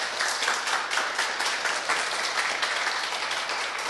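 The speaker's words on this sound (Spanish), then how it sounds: "Dale un fuerte aplauso al Señor por eso." A congregation claps loudly in praise of the Lord during a Spanish-language church sermon, a full, steady burst of applause filling the room for a few seconds.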